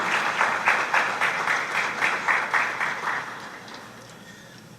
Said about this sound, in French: Je vous demande d'applaudir l'Office de la protection du citoyen